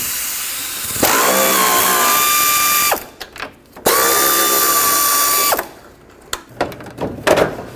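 A ratchet spins out two 10mm headlight bolts on a 2003-2021 Chevrolet Express, heard as two loud, close, sustained buzzing runs of about two seconds each, separated by a short pause with faint clatter, and no talking.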